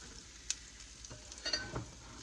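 Four small zucchini fritters fry in a pan as they crisp, giving a faint, steady sizzle broken by a few soft clicks and pops.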